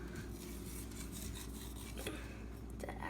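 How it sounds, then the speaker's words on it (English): Cheese being grated by hand in a kitchen for a sandwich, a steady close rasping scrape that runs continuously for a few seconds with a brief clatter near the end. "You should grate the cheese."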